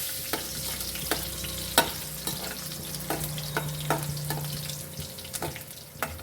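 Garlic sizzles and fries in hot oil with cumin, bay leaf and asafoetida while a utensil stirs, steady close crackle broken by repeated scraping knocks, no voices.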